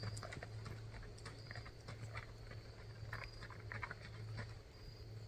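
Hooves of a six-year-old palomino and white Tennessee Walking Horse walking outdoors near a creek, a faint irregular clip-clop under steady insect and cricket noise; no talking.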